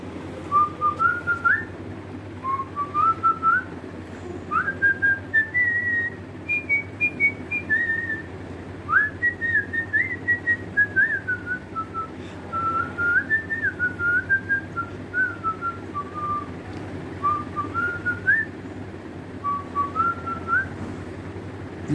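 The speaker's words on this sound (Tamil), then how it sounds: "விசில் அடிக்கிறேன் அது என்ன வரின்னு ஞாபகம் வரல" An elderly man whistles a song melody alone, a steady run of clear rising and falling phrases with short pauses, close and moderately loud over a low background hum.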